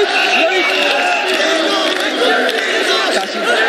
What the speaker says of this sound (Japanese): 内からの拍手と歓声が起こっています